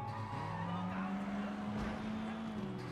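A car drives in the video game Sleeping Dogs, its engine note rising and sliding in pitch as it accelerates, with a brief tyre-squeal edge, steady and fairly close with no talk over it.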